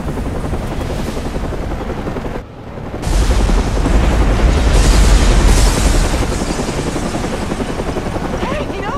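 A large explosion in the video game Batman Arkham Origins sets off a sudden roaring blast. It swells into a loud, sustained rumble that fades gradually over several seconds.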